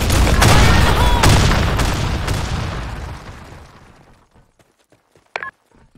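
A grenade explodes in the shooter game Blackshot as a loud, booming blast with a few sharp cracks, then a long rumbling decay fading to near silence, followed by a brief faint click.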